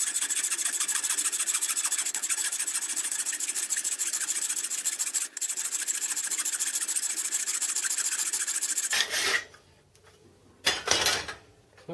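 A hand file working over the metal universal compound base of a home-built Gingery milling machine, making a loud continuous rasping scrape that breaks off, then a couple of short final strokes.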